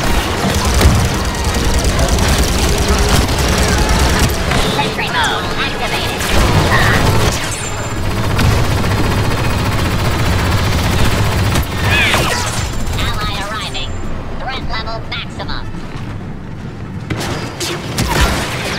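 Rapid gunfire and explosions crash through a Star Wars Battlefront 2 match, loud and continuous with bursts of shots and booms, and a voice is heard reacting over the din.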